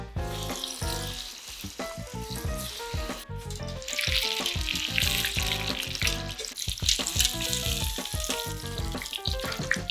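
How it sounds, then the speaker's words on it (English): Paneer popcorn sizzles and crackles in hot oil, a busy steady frying hiss with bursts of popping close by, alongside some clinking and stirring. "When you're frying, you have to make sure that you're preheating your oil till it's hot."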